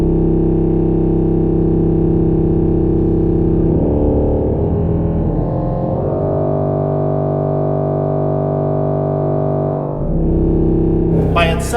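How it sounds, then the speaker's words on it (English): A 16-foot bombard reed stop played alone on a 2013 Casavant pipe organ in a church, giving a loud, buzzy, brassy low drone with held chords that shift a few times, steady and resonant throughout. "if you just have the bombard on by itself at 16"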